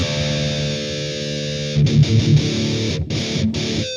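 A heavily distorted electric guitar through an amp-sim plugin rings out with a thick, buzzing old-school death metal tone, loud and close, with a few chord changes and brief breaks.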